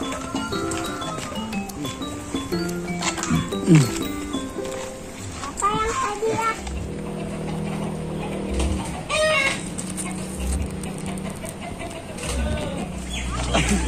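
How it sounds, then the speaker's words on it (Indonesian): Chickens on a roof cluck and squawk off and on amid busy outdoor noise, with people talking nearby through much of it. "ada ayam di atas genteng"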